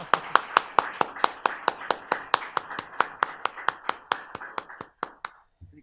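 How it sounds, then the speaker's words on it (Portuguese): Slow, evenly spaced claps, about twenty sharp hits in steady rhythm, from a lecture audience greeting speaker Eleonora Renault before her talk on Aleijadinho; the claps stay fairly close and clear, then stop. "aplausos antecipados para Eleonora Renault"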